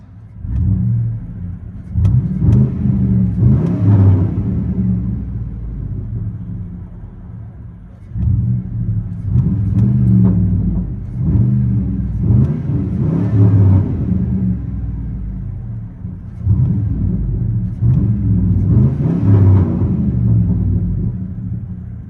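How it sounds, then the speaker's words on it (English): Deep V8 exhaust rumble from a 2005 GMC Sierra 1500 5.3L with true dual Flowmaster Super 10 mufflers and quad tips, heard from inside the cab: a loud, steady drone that swells in repeated revving surges, with no talking. "GMC Sierra 1500, True Dual, Super FLOWMASTER Super 10s, and quad tips out the back."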